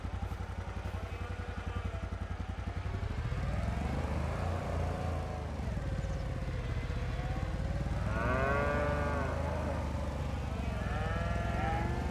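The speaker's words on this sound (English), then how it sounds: "Like I say, they're good cows." Cattle in the video game Farming Simulator 25 moo repeatedly and loudly, several drawn-out calls overlapping above a steady low engine-like hum.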